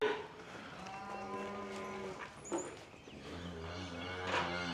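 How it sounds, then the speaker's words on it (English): Cattle lowing on a farm, several drawn-out moos overlapping at a moderate distance over a steady outdoor background, with no talking. "Cows, y'all go that way. Go that way, cows."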